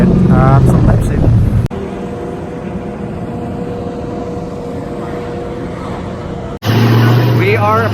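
Drift cars line up to qualify at a Formula Drift event in New Jersey, giving a steady, droning engine rumble in the background. Louder buffeting noise bursts in at the start and end.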